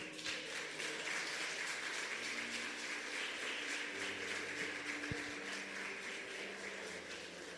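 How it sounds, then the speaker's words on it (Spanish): A church congregation applauds during a sermon, with dense and sustained clapping that fills the room at an even level and no talk over it. "Dele un fuerte aplauso al Señor"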